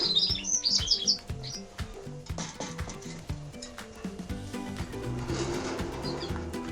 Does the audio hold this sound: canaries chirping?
yes